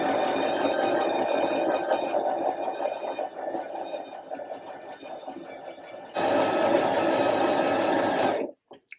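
Sewing machine stitching a seam on a halter piece for a reversible tie-back top, a steady close whirring drone that surges louder near the end, then stops abruptly.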